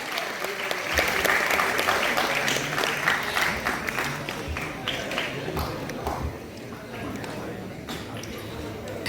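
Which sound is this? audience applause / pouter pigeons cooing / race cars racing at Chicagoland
audience applause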